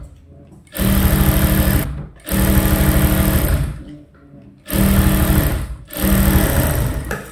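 A sewing machine stitching a blouse piece runs in four loud bursts of rapid, even whirring, each about a second and a half long, with brief pauses between them.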